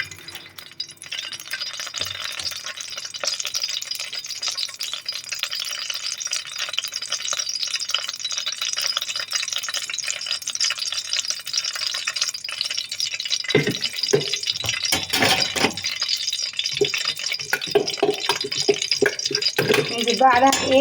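Onion and garlic fry for a spinach dish. A continuous crackling sizzle fills the clip, joined later by spoon scrapes and clinks against the pan.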